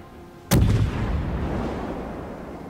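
Naval guns fire in World of Warships: a single heavy, booming shot rings out and then rolls away into a long rumbling tail, loud and close.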